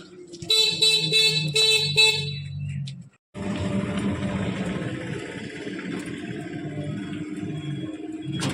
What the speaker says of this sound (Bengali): এবার হর্ন মারো।